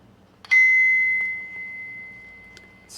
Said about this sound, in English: you're supposed to hold the top for 2 seconds until you hear